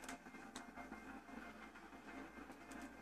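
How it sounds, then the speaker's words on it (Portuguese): Train rolling past in GTA V, heard as a faint steady rumble with low rail noise and light periodic clicks, alone and without voices. "isso é a hora do trem passar"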